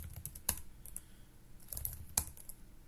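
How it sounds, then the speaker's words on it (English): Fast typing on a computer keyboard while working on Fortran code, a quick irregular run of light key clicks with a few sharper taps, close and fairly quiet, with no voices. "I typed too fast."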